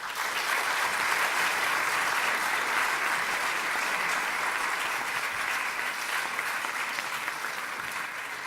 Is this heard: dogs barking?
no